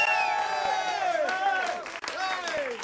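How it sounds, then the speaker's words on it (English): Studio audience cheers and applauds the Wolfshead Bowmen archery group on a talk show, a lively crowd roar with whoops and shouts under the host's voice. "would you welcome, my friends, the Wolfshead Bowmen here? Give them a nice round of applause"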